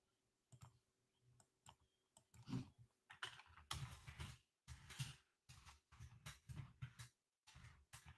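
A new computer keyboard being typed on in bursts of quick clicking keystrokes, close and fairly quiet, with short pauses between runs.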